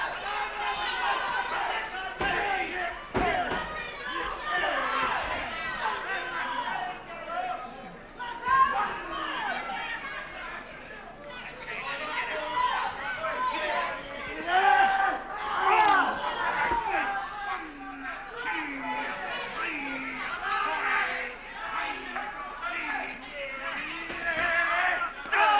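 A wrestling crowd at Aylesbury in 1977 reacting to kung fu attacks: a constant hubbub of chatter, shouts and children's voices, loud and lively throughout.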